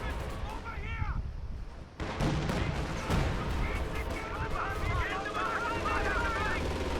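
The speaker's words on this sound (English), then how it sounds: "Redman brings in another one of those barrages" An artillery barrage pounds away in the Company of Heroes 2 video game, a rolling series of booms and crackling blasts under a steady battle din, with someone commenting over it.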